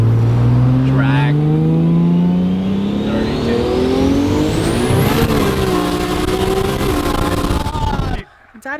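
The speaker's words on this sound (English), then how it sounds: "This is definitely going to be the quickest accelerating vehicle that I've ever ridden in." A 1500hp RD28/RB26 hybrid Nissan R32 GT-R on E85 and slicks with an automatic drag setup launches hard, its engine roaring loud and close as the revs climb steadily through a gear change before cutting off abruptly, with voices under the noise.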